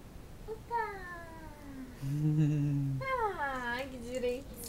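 A cat gives a few drawn-out meows, close and clear, each sliding in pitch, with a low, steady murmur between the cries.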